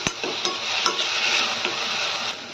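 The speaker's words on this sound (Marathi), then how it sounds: "चवीपुरतं मीठ घालूया, हलवून घ्या।" Cluster bean chili is stirred with salt in a pan, a spoon scraping and clinking against the metal over a soft continuous sizzle, close and fairly loud, with no voices.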